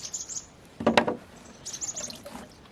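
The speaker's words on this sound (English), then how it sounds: "the birds are mad because their seeds are right here and I'm in their way" Small birds chirp and call around a seed feeder on a homestead in maple sap season, quick bright bursts at the start and again toward the end, with a louder rustling burst in the middle.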